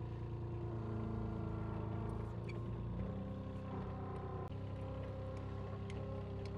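Engine of a 25 horsepower mini loader while it turns, a continuous diesel drone whose pitch shifts a little as the machine works, heard fairly close with no speech.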